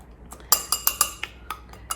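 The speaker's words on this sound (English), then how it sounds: "So I'm just going to mix this lightly." A utensil clinks against a bowl while cake batter with baking powder, baking soda and salt is lightly mixed. About eight sharp, close taps come in an uneven rhythm, quiet, with no talking.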